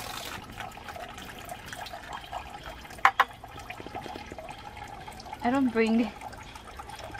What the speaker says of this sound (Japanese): いっぱい水を入れて、で、まず左手洗います。